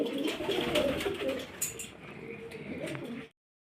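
Pigeons coo repeatedly at close range, soft throaty calls overlapping in a steady murmur with a few higher chirps, then the sound stops abruptly.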